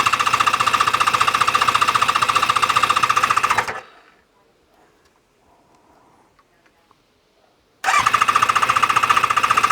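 Kawasaki ZZR600 motorcycle engine running on choke with a rapid, loud mechanical clatter, cutting out abruptly for a few seconds of near silence before catching again at full racket.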